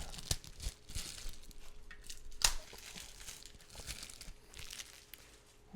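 A taped, double-wrapped knife package being cut open, giving a close run of crinkling and tearing plastic with one sharp rip partway through and no talk.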